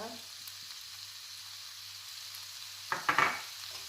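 Minced pork stir-frying with oyster sauce and fish sauce in a pan for holy basil pork, a low steady sizzle with a few louder scraping stirs near the end, no voices.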